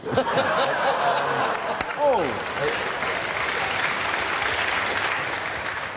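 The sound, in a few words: studio audience applause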